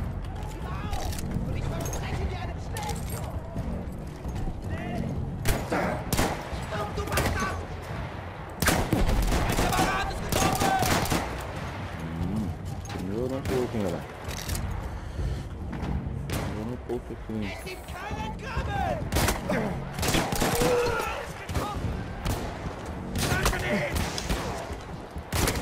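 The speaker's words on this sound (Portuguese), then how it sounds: "É muito tiro, velho." Battlefield 1 gunfire, dense bursts of rifle and machine-gun shots with occasional heavier blasts, crackling loudly and almost without pause throughout, with a player talking now and then over it.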